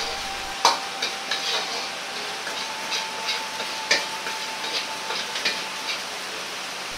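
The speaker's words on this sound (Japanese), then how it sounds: "外側から卵が固まってくるので内側にお玉で入れていき均等に火を通します。" Beaten egg with shrimp setting in a hot pan for a fluffy shrimp-egg fried rice, steady soft sizzling broken by repeated light ladle taps and scrapes as the egg is pushed inward.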